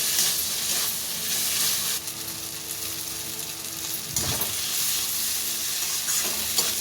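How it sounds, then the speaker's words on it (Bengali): Mashed potato and grated paneer filling is stirred in a hot frying pan: a continuous sizzle with scraping stir strokes and one louder scrape near the end, close and fairly loud. No one speaks. "এবার এই আলুটার মধ্যে আগে থেকে গ্রেট করে রাখা পনির দিয়ে দেব। দিয়ে খুব ভালোভাবে নাড়িয়ে নেব।"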